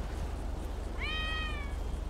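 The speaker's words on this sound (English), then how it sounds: "Is it the cat?" A cat in the video game GTA 5 gives a single short, clear meow rising then sliding down, heard over a quiet low ambient hum.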